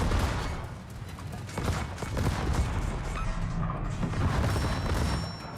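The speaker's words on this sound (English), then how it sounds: "I'm gonna fire my main guns and switch to secondaries, and I'm gonna start shooting at the Hanover" Warship main guns and secondary batteries firing in World of Warships, a rumbling barrage of overlapping booms and rapid secondary shots rolling on for several seconds, loud and continuous with swelling peaks.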